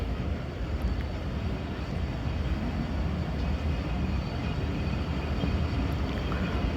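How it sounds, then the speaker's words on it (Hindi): The 11 Up train pulls out of Domeli railway station, a steady low rumbling roar of rolling stock heard from close by, constant and even, with no talk. "तो 11 अप का डिपार्चर हो गया है डोमेली रेलवे स्टेशन से।"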